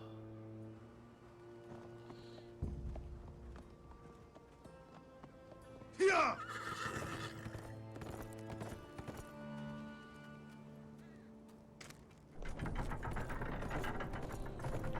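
A horse in the Game of Thrones Telltale video game lets out a single whinny midway, over clip-clopping hooves and a low game score, with mechanical clicks and a louder rumble near the end.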